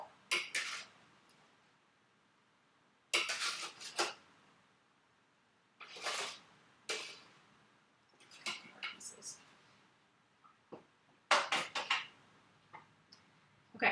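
Utensils clinking against a bowl while crispy tofu is added to a rice bowl, scattered short clatters and taps with quiet gaps between them, close and fairly soft.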